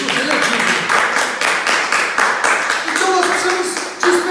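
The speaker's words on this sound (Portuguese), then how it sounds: "Você quer dar um aplauso ao Senhor Jesus?" Church congregation breaking into applause, a broad, dense wash of clapping that holds steady for several seconds, with a voice rising briefly over it near the end.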